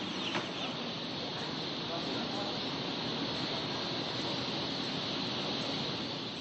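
A vast flock at a commercial poultry farm holding hundreds of thousands of birds, heard as a dense, continuous wash of clucking blended into a steady broadband din, even and unbroken throughout.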